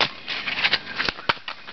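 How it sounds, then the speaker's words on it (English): A deck of angel oracle cards being shuffled, a quick papery riffle with a few sharp flicks and snaps of the cards, close and fairly quiet, with no talking. "And another shuffle."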